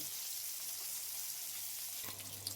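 Tol fish shallow-frying in oil over a low gas flame, a steady close hiss and crackle throughout with a small clatter near the end.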